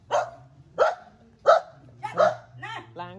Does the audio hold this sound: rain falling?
no